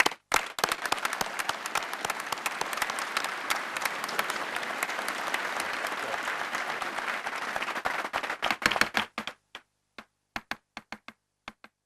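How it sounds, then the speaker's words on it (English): Applause for a fire captain at a memorial gathering swells at once into a sustained, dense round of clapping from a crowd, then thins to a few scattered claps before stopping. "could we give him a round of applause, please?"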